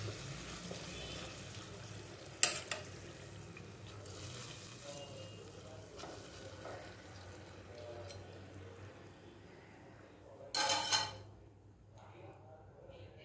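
Biryani ingredients stirred and spread around in a pot, a quiet continuous scraping and soft sizzle with a couple of sharp clinks of a spoon against the pot, fairly close but faint.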